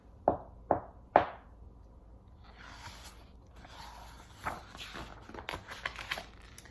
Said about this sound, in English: The rug was the first to knock on their bedroom door.